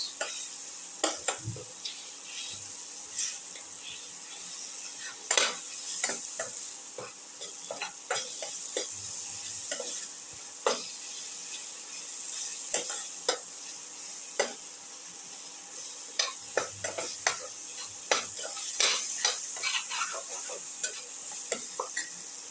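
A spoon scrapes and clinks against a pan while a spice mixture for a ginger eggplant tomato roast casserole is thoroughly mixed, with irregular knocks over a faint background sizzle.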